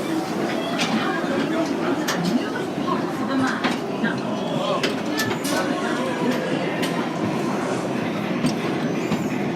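A moving train on a ghost-town railway, with a steady rumbling roar, scattered clicks and faint wheel squeals throughout and voices in the background.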